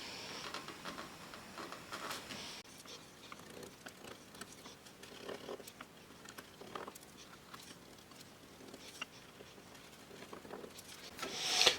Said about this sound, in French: vous prenez un ciseau, moi j'aime bien, ça se coupe bien dans le fil du bois